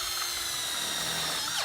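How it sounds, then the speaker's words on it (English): A power drill drives tech screws through the back of a metal box, giving a loud, close, steady high whine that ends in a quick drop as the screw seats. No one speaks. "run a couple tech screws in"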